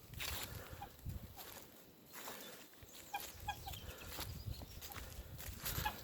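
Honking, clucking fowl calls come in scattered bursts, fairly close, over a steady outdoor background.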